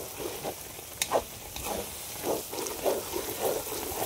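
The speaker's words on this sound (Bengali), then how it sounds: "এটা ভালো করে ভাজা হোক" Spice masala with Kashmiri chilli fries in a pan for chicken leg biryani, giving a steady close sizzle with occasional stirring scrapes and no talking.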